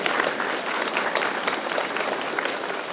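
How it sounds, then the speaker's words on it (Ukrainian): A crowd applauds at a school's last-bell ceremony, with steady sustained clapping from many hands at an even volume throughout. "Велика щира подяка, оплески подаруйте людям"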